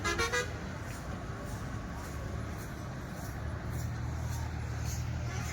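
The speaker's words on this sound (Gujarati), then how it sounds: "આગળથી હોર્ન મારતા મારતા આવે છે બધા" A short bus-horn toot at the start, then steady traffic rumble from a long convoy of stopped luxury buses, engines idling, with faint distant honks.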